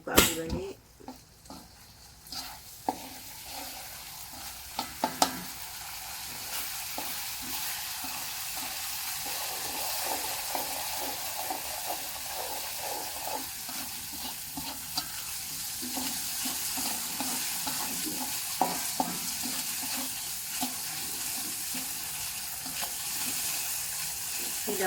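Quiet, ongoing sizzle of egg frying in a pan, with occasional clinks and scrapes of stirring and a few sharper knocks near the start.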